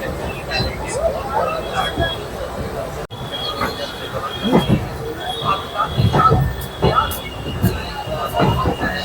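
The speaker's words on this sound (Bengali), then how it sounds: "ছেড়ে দিল আজকের হাওড়া ঋষিকেশগামী দুন এক্সপ্রেস" The 13009 Doon Express pulls out of Howrah station bound for Rishikesh, wheels rumbling and clanking in irregular bursts at close range, with a brief squeal and voices murmuring around it.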